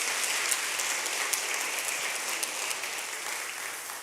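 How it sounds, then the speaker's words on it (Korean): A church congregation at a Korean Presbyterian Sunday worship service breaks into steady, enthusiastic applause, a dense sustained wash of many hands clapping together for several seconds without talk. "우리 힘차게 한번 박수해 주시기 바랍니다"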